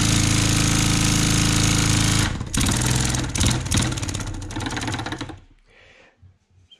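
A small model wobbler engine runs at about 1,000 RPM with a rapid, even mechanical chatter, loud and close, then cuts out and falls quiet near the end.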